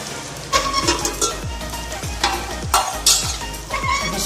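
A hot oil tempering is poured into desi saag and sizzles up, with a close, crackling fry that flares again in repeated bursts as it is stirred in with a utensil. Nobody speaks.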